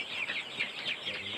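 Chickens clucking steadily in a farm setting, a continuous chorus of close, moderately loud bird calls with no talk.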